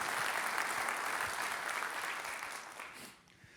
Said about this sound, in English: let's give them a big round of applause for all their amazing work